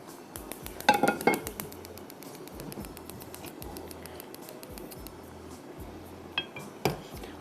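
A metal pan clinks and rattles as cooking oil is poured in for a fish recipe, a few sharp clatters and light taps over quiet kitchen background, with no talk.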